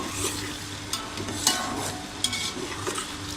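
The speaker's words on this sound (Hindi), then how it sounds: "जितनी देर तक ये प्याज हमारा ब्राउन होता है" Onions browning over low heat in a pan for chana pulao, a soft continuous sizzle with a few scraping stirs of a spoon, close and alone.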